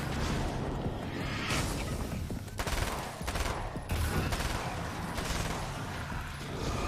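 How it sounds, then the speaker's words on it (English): In a Payday-style shooter video game, bursts of rapid gunfire and grenade blasts crackle densely and continuously, with a few sharper booming hits standing out in the loud mix. "Is that guy throwing nades?"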